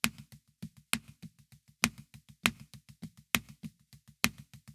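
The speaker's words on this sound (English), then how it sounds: "We're going to play a 6-6-4 pattern just with all single strokes." Quiet, crisp single drum strokes in a fast repeating 6-6-4 grouping, with sharper accented hits marking the start of each cycle; close and dry.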